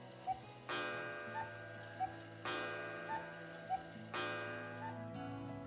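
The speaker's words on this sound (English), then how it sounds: "have you ever heard of cuckoo clocks?" A cuckoo clock ticks steadily in a close, quiet room, with a regular tick-tock rhythm and ringing harmonic tones that recur every couple of seconds.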